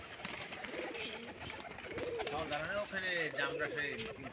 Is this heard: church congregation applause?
no